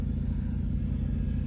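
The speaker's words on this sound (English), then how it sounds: "I'm driving now to this place" A steady, low rumble of a car cruising along a road, heard from inside the cabin as a constant drone with no distinct events or talk.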